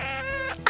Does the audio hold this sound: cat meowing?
yes